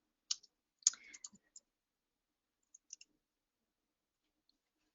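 A computer keyboard is typed on in a quiet room, with a few faint, sparse clicks clustered early, then a couple more taps after a pause and silence after that.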